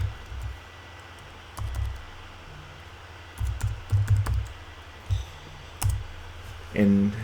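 Light, scattered keystrokes on a computer keyboard come in short bursts of quiet tapping, with soft clicks between, fairly close and low in level.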